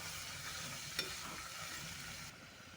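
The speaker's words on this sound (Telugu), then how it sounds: "కొద్దిగా వేయించుకుందాం." Marinated chicken frying in a pan with curry leaves, a steady close sizzle and crackle running without a break, with one brief clink near the middle and the sizzle dropping a little toward the end.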